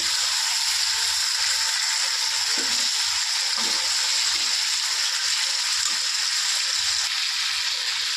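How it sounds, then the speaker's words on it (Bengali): Marinated fish frying in hot oil in a pan, a loud continuous sizzle that holds steady throughout, with a few soft scraping knocks from gentle stirring beneath it and no speech. "ম্যারিনেট করা মাছ দিয়ে দিয়েছি এর মধ্যে। হালকা হাতে একটু নেড়ে চেড়ে নেব"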